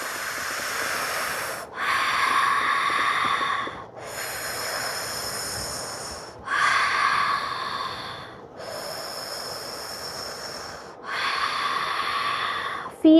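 Deep, slow breaths during a fascial leg stretch, five long airy inhale-exhale cycles of roughly two seconds each, close and loud, separated by brief quiet gaps.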